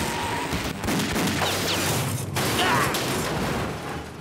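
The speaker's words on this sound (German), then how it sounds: "Ein ausgezeichneter Schuss" Cartoon gunshots in a Lucky Luke episode: a burst of sharp cracks and a loud boom amid busy action noise, several quick reports over a few seconds, with a little speech mixed in.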